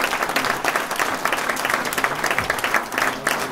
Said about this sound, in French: Vous pouvez applaudir à Nicole Duclos,